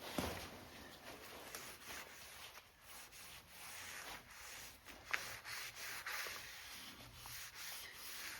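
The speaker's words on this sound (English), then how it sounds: "I'm gonna scrape it off and see how well it worked" Bubbled paint stripper is scraped off a Ford Bronco's moulding in quiet, repeated rasping strokes with brief sharper scratches, close but faint, with no talking.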